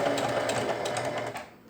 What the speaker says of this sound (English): So we're going to go around the curve. You sew curves very slowly.